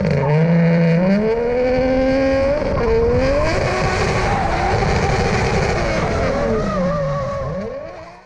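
Car engine revving hard on a Link ECU launch control limiter, loud and continuous with rising and falling pitch sweeps and a crackling, stuttering texture, fading slightly at the end.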